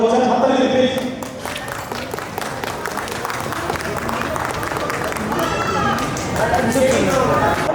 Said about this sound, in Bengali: হাততালি দিন প্লিজ।